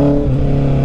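Honda CB650R motorcycle engine held steady under throttle in third gear, a close, loud, even engine drone with a low rumble and no clear change in pitch during the brief moment.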